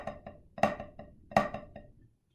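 Flam strokes on a drum, each main hit preceded by a soft grace note from the opposite hand; two loud accented flams stand out among quieter taps, played close and alone, fading into silence at the end.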